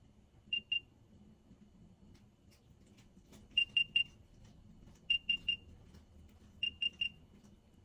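Bursts of high electronic chirps from third-generation AirPods repeat in quick groups of two and three, each group a second or so apart, over faint low room noise.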